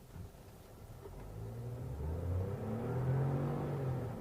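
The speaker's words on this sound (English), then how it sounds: "the turbo kicks in at 1000 RPM" A Geely Coolray crossover's turbocharged engine accelerating, its low rumble rising steadily in pitch and loudness over a few seconds as the car pulls away, heard from inside without talk.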